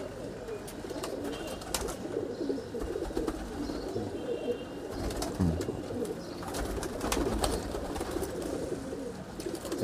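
Salara pigeons bred at home coo in a steady, overlapping murmur through the whole stretch, fairly close and continuous, with faint rustles and a few sharper chirps above.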